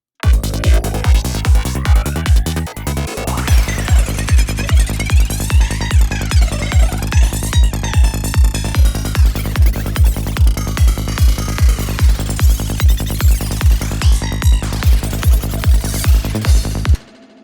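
Knife samples processed into a psychedelic, warped texture over a steady thumping kick drum and deep bass, pulsing evenly and loud for the whole stretch, with sweeping tonal swirls on top and no voice.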